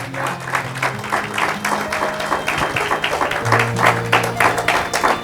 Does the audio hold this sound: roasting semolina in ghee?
no